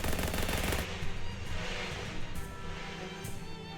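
Rapid video-game gunfire from Shadows Over Loathing, with a burst of automatic shots followed by scattered single bangs, loud and alone with no talking.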